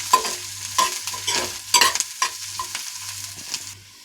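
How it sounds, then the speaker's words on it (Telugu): Dried red chillies fry in a pan with a close, bright sizzle as a spatula stirs and scrapes in quick repeated strokes, a low burner hum steady underneath and no voices. "ఇప్పుడు ఎండుమిర్చి, దోరగా వేయించుకోవాలండి."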